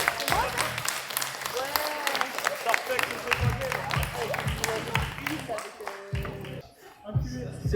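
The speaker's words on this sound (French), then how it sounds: "On s'applaudit." An audience applauds teams called to the podium at a strength competition, with steady clapping and scattered cheers while a voice talks over it.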